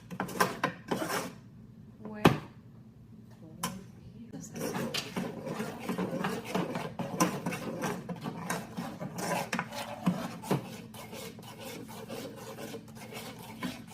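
Spoon stirring sugar in a pan while making flan de queso, a steady scraping and rubbing at close range with occasional sharper clinks, continuing under light background noise.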